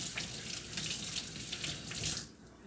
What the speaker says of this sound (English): rinse my hand off